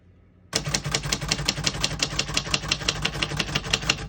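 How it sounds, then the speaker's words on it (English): Keys striking on a 1974 Royal Sabre portable typewriter, a steady run of sharp, evenly spaced clacks. They are close and loud over a faint mechanical hum, and no one speaks. "As you can see, all the keys type nice and none of them skip or stick."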